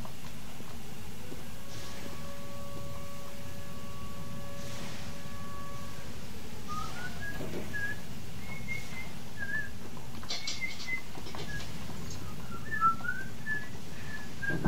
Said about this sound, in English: Why are you whistling to my tune?